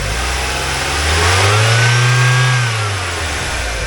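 A 1999 Mazda Miata engine idles, then revs up in one smooth rise and falls back to idle, loud and close by.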